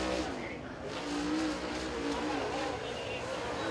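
A race car runs a qualifying lap at Tazewell Speedway, its engine a continuous, loud roar that holds steady with slight swells, close and dense across the whole stretch.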